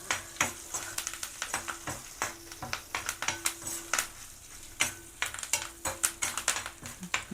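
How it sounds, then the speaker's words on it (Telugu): Urad dal, mustard seeds, cumin, curry leaves and chillies fry in hot oil for an okra roti pachadi tempering, giving a steady crackle of close, sharp pops and sizzles with occasional stirring scrapes, with no voices. "అవి వేగాలి, కొంచెం దోరగా వేయించుకుందాం."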